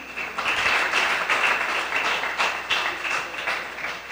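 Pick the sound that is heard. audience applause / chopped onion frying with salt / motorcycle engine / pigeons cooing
audience applause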